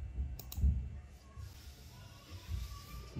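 A few sharp computer mouse clicks near the start, close and fairly quiet, followed by a low hum with no voices.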